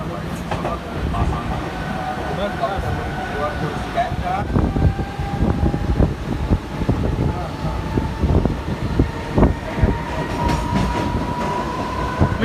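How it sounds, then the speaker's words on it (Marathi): A MEMU passenger train rumbles along with rhythmic wheel clatter and rattling carriages, heard from inside, steady and close, with faint voices in the background. "आता आम्ही मेमो ट्रेन मध्ये बसलोय"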